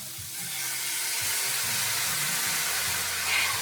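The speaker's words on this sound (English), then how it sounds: "We about to hear a nice little sizzle." Steady broadband sizzling of food frying in a pan, loud and close, with a faint low hum and background music underneath.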